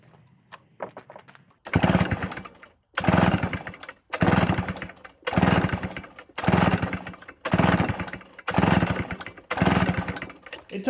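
A vintage Wright C50 two-stroke chainsaw is pull-started again and again, each roughly one-second burst of sputtering buzz cut off by a short pause, about eight tries.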